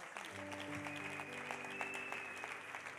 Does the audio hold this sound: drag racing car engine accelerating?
no